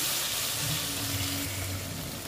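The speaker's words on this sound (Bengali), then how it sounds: "আমি একটু গরম জল দিচ্ছি।" Hot water goes into a pan of sizzling fish curry with potato and lentil dumplings, and a loud, dense hiss of frying and bubbling fills the whole short moment.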